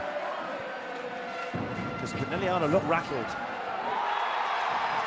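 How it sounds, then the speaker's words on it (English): Scandicci fans cheering and chanting in an indoor arena during a women's volleyball finals match against Conegliano, a loud rising roar that surges midway, with a commentator talking over it. "listen to the crowd, Scandicci faithful, believe"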